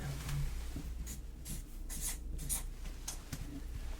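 Pen on paper writes in an ASMR classroom roleplay, with close, soft scratchy strokes in short bursts and no talk.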